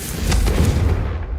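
A Confringo fire spell explodes in the wizarding game Hogwarts Legacy, a single deep rumbling boom with a whooshing burst that swells and slowly fades, loud and close, with no voices.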